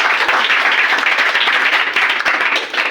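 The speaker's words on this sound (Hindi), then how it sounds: "श्रेया के लिए जोरदार ताली बजाइए।" A classroom of students gives a student a loud round of applause during a maths question-and-answer session, dense steady clapping filling the whole stretch without pause.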